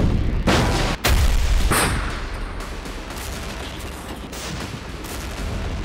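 Explosions and artillery fire from the war in Ukraine appear in news footage: a couple of sharp, loud booms near the start give way to a rumbling, crackling roar, with no talk.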